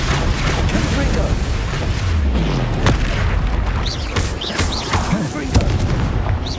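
Spell blasts from Bombarda and Confringo in Hogwarts Legacy on Hard difficulty, a rapid string of sharp booms and crackling impacts with whooshing effects, loud and busy, mixed with game voices.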